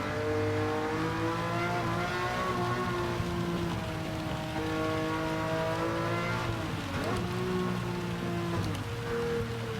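A Ferrari 330 P4 race car in a racing game spins its tyres on a soaked Le Mans track, its engine droning and rising in pitch through the throttle under a constant hiss of rain.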